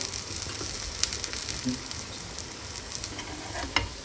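A tomato omelette fries in oil in a pan, giving a continuous soft sizzle and crackle with a few sharper pops and spatters, steady and close throughout, with no voices.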